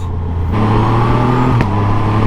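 A loud supercharged Triumph Rocket 3 motorcycle engine hums close by, its pitch climbing as it revs in a smooth, steady drone.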